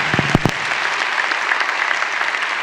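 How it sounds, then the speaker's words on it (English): An audience at a prize presentation ceremony applauds event staff with sustained, even clapping from a large crowd, opened by a few close, loud claps, and no talking over it. "here, you guys can clap for them"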